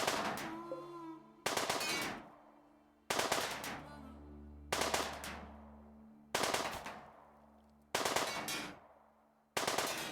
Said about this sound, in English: now you just have to sit here and shoot the psychic suppressor